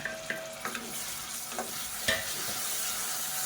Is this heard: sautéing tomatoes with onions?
yes